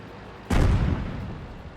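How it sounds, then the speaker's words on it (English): Friendly artillery fire in World of Tanks on the Pearl River map: one sudden, loud, deep boom that rings out and slowly decays, with no voices. "the friendly artillery kills the pesky little scout"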